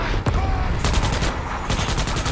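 Rapid machine-gun bursts from a gun in a video game, loud and close, crackling in repeated strings of shots with a short gap between volleys.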